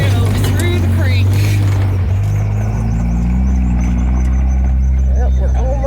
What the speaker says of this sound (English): Oh, here we go, through the creek.